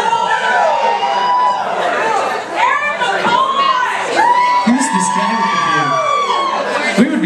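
Concert crowd at a Bad Friends show cheering, whooping and yelling loudly for several seconds, a dense roar of many voices with individual shouts rising above it.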